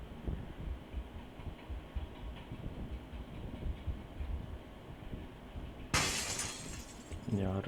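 A glass window shatters in the battle royale game PUBG, a sudden bright crash near the end that follows several seconds of busy in-game noise, with a voice talking throughout.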